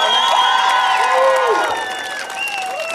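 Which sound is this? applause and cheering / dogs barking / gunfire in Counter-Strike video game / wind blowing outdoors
applause and cheering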